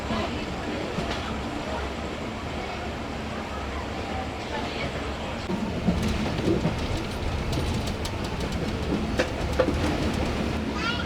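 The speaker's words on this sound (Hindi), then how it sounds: "काफ़ी स्मूथली ट्रेन हमारी निकल रही है लाहौर कैंट रेलवे स्टेशन से" A Musa Pak Express railcar pulls out of Lahore Cantt railway station with a steady rumbling roll from inside the carriage, and the noise grows slightly louder and busier partway through.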